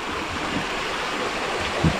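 Natural spring water flowing steadily at a rural stream in the Philippine countryside, a continuous broadband wash with soft low gurgles and one brief louder splash near the end, no voices.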